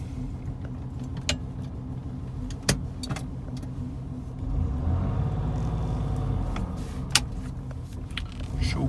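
A 1972 Citroen SM engine cranks and starts, settling into a low, steady idle rumble, with a few sharp clicks and key jingles near the start.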